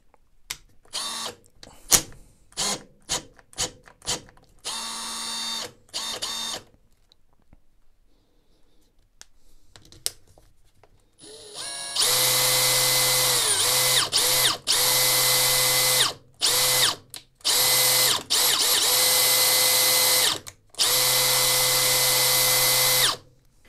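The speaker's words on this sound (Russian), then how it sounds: "на режиме закручивания, вот первый режим, я руками держу патрон, все работает" A Makita DF001G cordless drill running in screwdriving mode while the chuck is held by hand: clicks and handling noises, then a steady high-pitched motor whine in several long runs with short stops between them.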